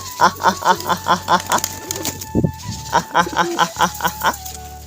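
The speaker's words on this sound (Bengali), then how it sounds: "সব পায়রাদের একদম সবাই সুন্দর করে খাচ্ছে" Pigeons at a loft coo in a steady, repeated rhythm while they eat their feed, close and fairly loud, with a brief rustle in the middle.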